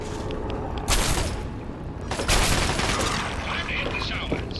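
Companions firing weapons in Fallout 3 produce bursts of rapid gunfire with two louder volleys. Mechanical clanks and a voice can be heard beneath the shots.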